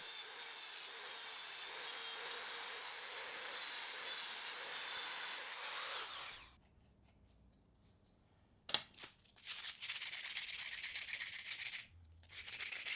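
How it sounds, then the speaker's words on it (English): Loud, steady abrasive grinding on small brass ship's wheel hardware runs for about six seconds with a faint whine, then stops; after a silent gap, scattered clatter and a brief second burst of rubbing follow. "so I'll grind them instead"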